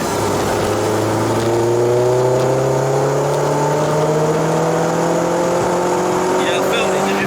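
A VW Polo 6N2 with a 1.8T 20v turbo engine revs at full throttle on a tuning day, a steady rising engine drone that climbs in pitch across the whole run, loud and continuous with no talk over it.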